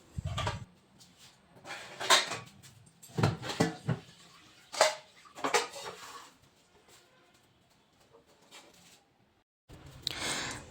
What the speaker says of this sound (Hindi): सारा सब्ज़ी हम दूसरा बर्तन में पलट के रख देते हैं और सारा बर्तन हम निकाल लेते हैं धोने के लिए